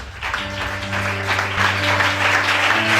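A church congregation claps and cheers in a loud, dense, continuous wave of applause that holds steady throughout, with faint tones sounding beneath it.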